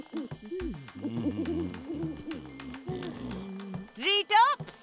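A cartoon owl hooting in the animated series Tinga Tinga Tales, a short burst of rising hoots near the end, heard after a stretch of character speech.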